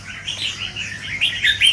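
Red-whiskered bulbul songbirds in an aviary chirp in several short, bright, warbling calls that rise and fall, fairly close with light background hiss.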